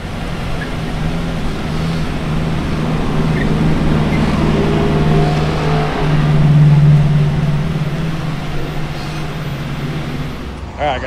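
The race car LT.Dan revs hard during a pre-race test run, a loud, close engine drone that swells and climbs in the middle, then drops away near the end.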